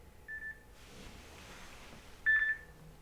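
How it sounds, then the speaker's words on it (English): A nap alarm gives two short electronic beeps about two seconds apart, thin, high and faint against a quiet room. "our nap alarm from yesterday"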